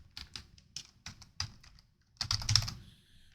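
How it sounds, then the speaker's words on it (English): Typing on a computer keyboard: irregular clicking keystrokes, single taps at first, then a quick dense run of keys near the end, close and alone. "maybe I'm hitting multiple keys at once"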